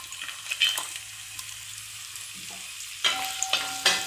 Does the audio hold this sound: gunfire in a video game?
no